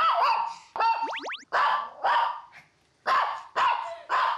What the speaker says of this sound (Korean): 아유 많이 짖는구나 너도.